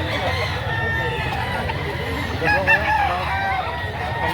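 A rooster crows amid a noisy crowd at a poultry market, with chatter and hubbub filling the background throughout.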